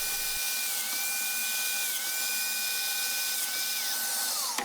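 A domino joiner cutting mortises into wooden shelf panels, a steady loud motor whine held throughout with slight pitch dips as it bites in, winding down at the end.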